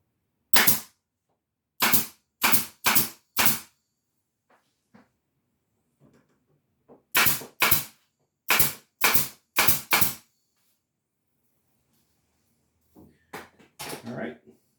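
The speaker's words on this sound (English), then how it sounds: "I'm just going to use my pin gun and pin it on" Pin gun firing pins into a new top on a folding work table, sharp loud snaps in two quick clusters of five, with soft handling noises between and a muffled voice near the end.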